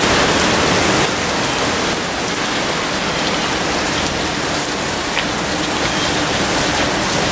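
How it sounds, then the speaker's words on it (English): Steady, dense rain pours down during a Florida rainstorm in a residential street, a continuous loud hiss of drops on surfaces with no letup and no voices. "Florida rainstorm."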